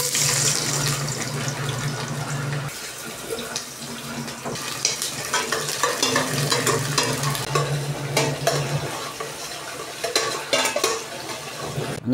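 Tomatoes for chicken tinola cook in a pot, with continuous stirring, clatter and sizzling alongside running-water sounds, busy and close with no talk.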